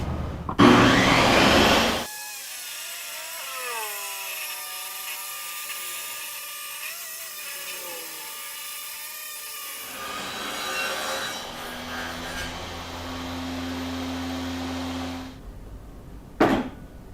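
Power saw cutting a strip of wood for a bass neck, with a loud burst, a whining motor that slowly winds down in pitch, then a lower steady hum and a brief final burst, all without talk.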